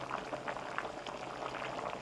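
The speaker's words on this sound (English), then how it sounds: "The soup is boiling, so let's open it up." Seaweed soup boils hard in a pot, a close, continuous bubbling and popping that carries steadily on its own, with no talking.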